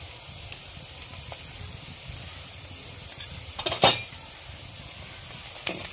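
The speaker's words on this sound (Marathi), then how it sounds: "आणि हळदीला आपण चांगलं तळून घ्यायचं आहे आपल्याला." Turmeric frying with browned onions in a pan over a village wood-fired stove for mutton curry, a low steady sizzle with light stirring and utensil scrapes, then a brief louder clatter near the middle.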